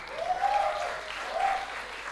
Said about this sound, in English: please give big round of applause for the dancer